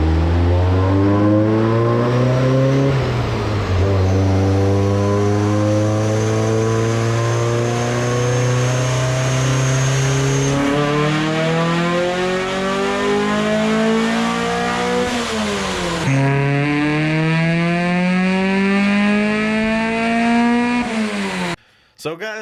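A nitrous-fed Neon on a chassis dyno with a 50-shot kit revs hard and loud, its engine note climbing in long rising sweeps, dropping back and climbing again before cutting off abruptly near the end.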